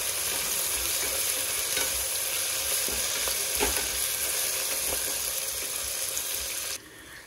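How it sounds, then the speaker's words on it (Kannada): Mint and coriander leaves frying in hot oil give a steady, loud sizzle with occasional stirring scrapes, continuous without speech until it drops away near the end. "ಪುದೀನ ಮತ್ತು ಕೊತ್ತಂಬರಿ ಸೊಪ್ಪನ್ನ ಇದು ಎಣ್ಣೆಗೆ ಹಾಕೊಳ್ಳೋಣ."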